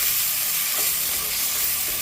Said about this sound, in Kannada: ಈಗ ನಾವು ರುಬ್ಬಿಟ್ಕೊಂಡಿರೋಂಥ ಈ ಚಟ್ನಿನ ಇದರಲ್ಲಿ ಹಾಕ್ಕೊಳ್ಳೋಣ